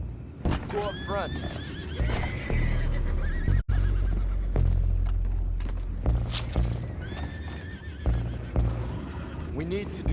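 Horses in Red Dead Redemption 2 neigh and whinny several times over a low rumbling game ambience, with hooves clip-clopping and a brief thump midway, loud and close.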